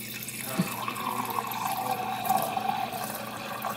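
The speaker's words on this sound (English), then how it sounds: "that's the water that we just got from the fridge" Water runs steadily from the dispenser of a Samsung RF24R7201SR refrigerator, a continuous close trickle with a faint tap near the start and no talking.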